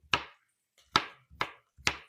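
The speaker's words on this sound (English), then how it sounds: "finish up chopping them up for our stew" A knife chops sweet potatoes for a sage and sweet potato tortellini stew, making four crisp, evenly spaced thunks on a cutting board, close and clear with quiet pauses between them.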